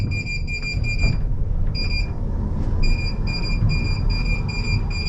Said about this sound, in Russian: Чем-то лифт недоволен. Издает какой-то нехарактерный писк.